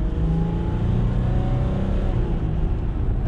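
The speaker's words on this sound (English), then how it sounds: "see what kind of acceleration we can get out of this thing" A 2014 Ram 1500 EcoDiesel pickup accelerating hard, a steady low engine drone heard from inside the cab, fairly subdued and rising slightly in pitch.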